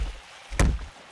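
A player character getting smacked in a Gmod horror map set in a haunted hotel: one solid thwack lands midway, hitting loud and close, with a fainter knock right at the end.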